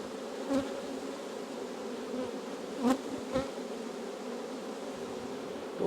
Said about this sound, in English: All those lovely bees.